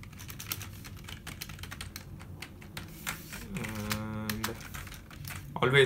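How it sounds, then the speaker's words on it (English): Name being typed on a computer keyboard into a Word document, a run of quick close key clicks with brief pauses and faint background sound. "The first thing I like to do is type my name in there."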